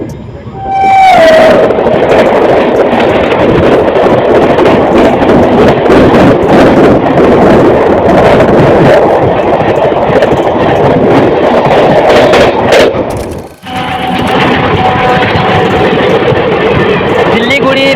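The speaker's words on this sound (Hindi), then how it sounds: "देख लीजिए गाड़ी हमारी कर्व ले रही है।" Jogbani Siliguri Intercity Express rumbling loudly through a curve, heard from inside a general coach with strong wind buffeting, steady rail roar and a brief high wheel squeal near the start, a sudden dip toward the end.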